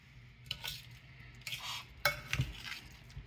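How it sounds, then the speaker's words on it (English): A spoon stirring mixed cheese into a cooking mixture in a pan for a flounder dish, three short scraping strokes with light clinks, close and quiet. "Stir that up."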